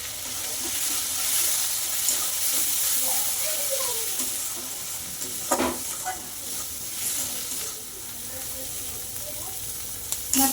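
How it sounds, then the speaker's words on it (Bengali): Spice masala fries in a pan during duck egg curry cooking, making a soft continuous sizzle with occasional stirring clinks, close by, while a person talks quietly in the background. "মশলাটা আমার কষানো হয়ে গেছে"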